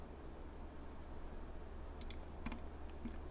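Keys on a computer keyboard are pressed for shortcuts while modelling in Blender, giving a few faint, quick clicks near the end against a low, steady background hum, with no talking.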